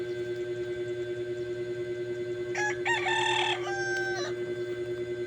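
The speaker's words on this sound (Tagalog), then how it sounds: "ito nga po pala yung mga alaga naming manok" Pet roosters at a Filipino home crow once, a single clear call about a second long standing out over a steady background hum, moderately close with no talking.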